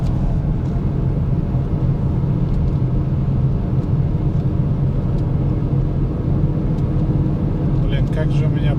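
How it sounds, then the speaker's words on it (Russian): A car cruises on a road on studded Nokian winter tyres, producing a steady, loud, low droning hum that persists evenly for the whole stretch. "как же у меня поют колеса"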